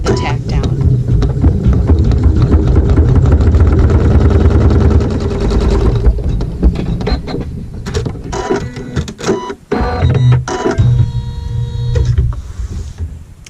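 A sewing machine sews a tack-down stitch on quilt fabric for a crazy quilt triangle block, its loud busy mechanical whir continuing throughout with clicks and handling noise toward the end.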